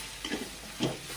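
A spoon stirs pasta masala in a pan, giving two short scraping, lightly sizzling strokes close up with quiet gaps between.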